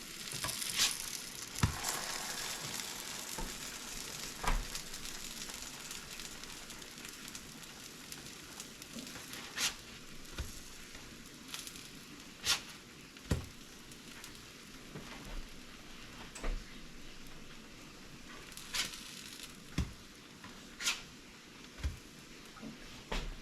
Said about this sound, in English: I don't know if you could hear that thing sizzling.